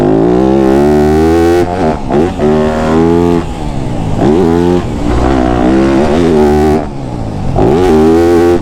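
A Yamaha YZ250F dirt bike engine roars close and very loud, its harmonic pitch rising and falling through repeated revs and throttle blips, with brief dips between surges.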